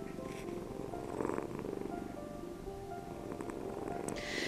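A cat purrs steadily and softly up close, a continuous low rumbling throb that runs unbroken throughout.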